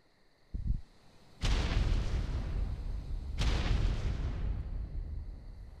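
Two heavy, booming grenade explosions go off in a video game, a second apart, each with a long rumbling tail, preceded by a brief muffled pop.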